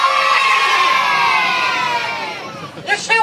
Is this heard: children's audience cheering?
yes